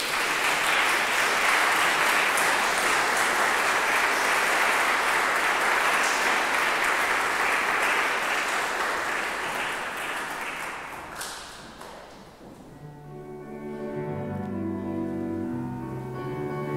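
A church congregation at a German service claps in sustained applause, dense and even for about eleven seconds, then it thins out and a piano or organ-like harmonic tone comes in.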